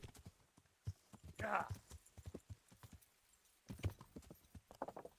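Horse hooves clip-clop in an irregular trot in the game Kingdom Come: Deliverance, with a brief whinny early on, the footfalls fairly close and moderately loud over a quiet background.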